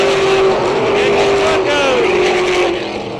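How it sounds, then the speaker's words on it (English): Pro Stock stock cars roar down the backstretch at a race, a loud sustained engine drone with rising and shifting pitch as cars pass, continuous throughout under a commentator's voice. "down the backstretch, followed by Clattenburg, car number 2"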